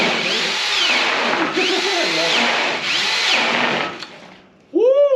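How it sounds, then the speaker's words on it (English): A power drill runs in loud close bursts while working on a fire-damaged Buick Electra 225, the motor whining steadily, then stopping briefly before a final rising spin-up. "I don't know if that drill's got it"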